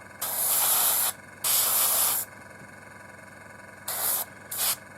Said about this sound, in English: I'll get my airbrush cleaned out